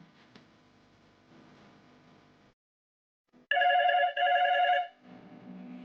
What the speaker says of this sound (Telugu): కాలర్ ఎవరో ఫోన్ చేశారు